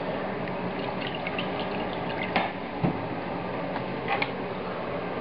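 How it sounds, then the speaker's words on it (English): Lamb broth poured through a sieve, a continuous loud liquid rush and trickle with a few brief splashes and clinks, close and steady throughout. "got a sieve set up here. We're going to pass liquid through this."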